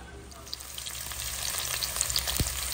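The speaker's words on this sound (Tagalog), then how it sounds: "piniprito na po natin ang ating sweet potato" Thin, large slices of sweet potato fry in hot oil with a steady, even sizzle and occasional small pops, heard close and alone with no voices.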